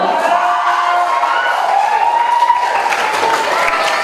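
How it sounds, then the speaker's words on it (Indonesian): A crowd applauds a contestant at the 2016 Bireuen regency tourism ambassador crowning ceremony: loud, sustained clapping mixed with a rising and falling siren-like wail or whistle, filling the space throughout. "Beri tepuk tangan yang meriah kepada Afifah Maulidia"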